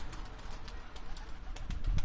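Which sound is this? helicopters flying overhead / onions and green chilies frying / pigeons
pigeons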